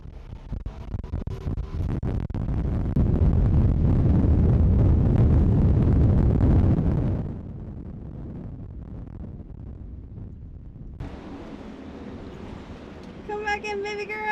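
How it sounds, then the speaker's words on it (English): Strong wind gusting to 25 at George Town buffets the microphone on a sailing boat in a loud roaring rush that peaks, then eases into a steadier, quieter blow, with faint voices at the end. "We got a big blow right now. It is gusting 25."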